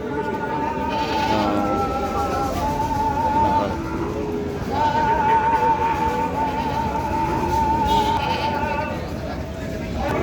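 A large Totapuri cross goat bleats in long, wavering calls, repeated several times, under steady crowd chatter and voices nearby at the Taherpur livestock market.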